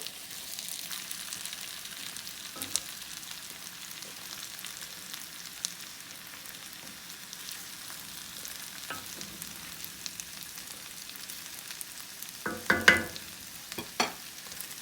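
Potatoes fry in butter in a pan with a steady, soft sizzle as they are swirled around, with occasional scraping and clinks of a utensil against the pan near the end.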